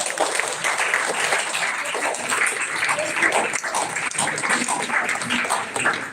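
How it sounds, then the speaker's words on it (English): A large audience gives a loud, sustained round of applause at a science college inaugural ceremony, dense and unbroken throughout, with faint voices beneath it. "request everyone to give a huge round of applause."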